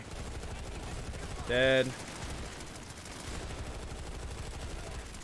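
Rapid gunfire in the shooter game Planetside 2 crackles steadily in the background, with a short, bright, tonal game effect partway through and a voice speaking briefly.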